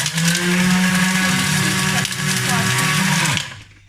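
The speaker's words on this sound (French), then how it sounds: "Il faut mixer, pardon, jusqu'à ce que ce soit vraiment une poudre" A blender loudly grinds seasoning for sea bass into a fine powder, a steady close whirring drone that runs for a few seconds before winding down abruptly at the end.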